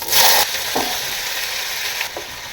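Cut potatoes tipped into hot oil in a wok burst into a loud sizzle, followed by a steady crackling fry with a couple of soft stirring scrapes and no speech.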